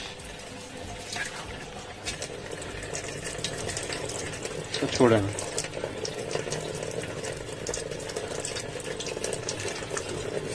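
A small cooler-type pump pushes water into a household tank, making a steady low hum and trickling splash that runs throughout under a voice.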